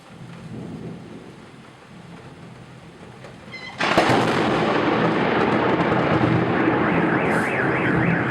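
Steady rain, then a sudden loud crack of a nearby lightning strike followed by rumbling, with a warbling car alarm starting up afterward.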